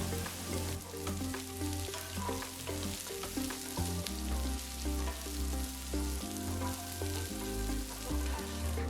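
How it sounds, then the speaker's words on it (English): Chopped ridge gourd pieces sizzle steadily in a hot pan over a low flame, a constant close crackling hiss that runs throughout, with a low hum and faint tonal music in the background and nobody talking. "Now add the chopped rich gourd pieces."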